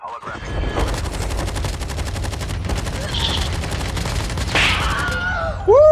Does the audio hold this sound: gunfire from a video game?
yes